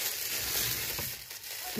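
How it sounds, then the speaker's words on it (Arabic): A plastic bag holding ammonia powder is closed up with a brief burst of crinkling, rustling plastic, heard up close for under two seconds. "استنى اقفل الكيس بقى"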